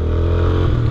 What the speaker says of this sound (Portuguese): Então eu coloquei um escapezinho